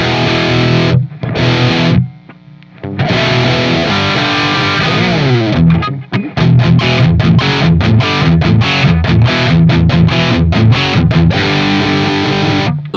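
An electric guitar plays through a blended rock reverb amp setup with Marshall, Mesa and Orange tones, giving loud distorted chords and bends, a brief pause early on, then choppy rhythmic strums with sharp gaps between hits.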